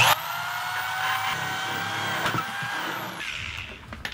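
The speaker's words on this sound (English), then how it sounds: "now I need to make three holes on the side over here" A power drill bores into plastic with a steady high-pitched whine that winds down near the end, followed by a few short clicks and knocks.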